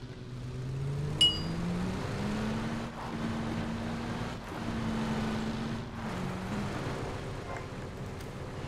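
Steady car engine drone in PUBG, the pitch climbing slightly as the vehicle is driven, moderately loud beneath a constant background hum with brief clicks.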